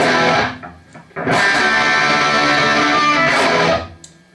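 A distorted electric guitar played through a Randall amp with no delay or reverb, sustained chords that ring out, pause briefly, then ring again before cutting off.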